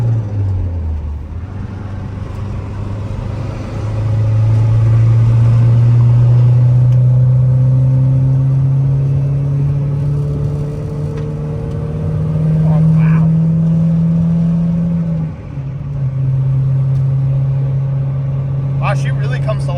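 A turbocharged Toyota MR2 GT-S, right-hand drive, with its engine droning loud and close as revs rise and hold, a brief dip before climbing again, under a voice talking over it.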